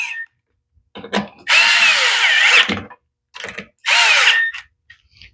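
A screw gun whirs in two short bursts as it drives screws on a Troy-Bilt mower, close and loud, with light clicks and handling noises between runs.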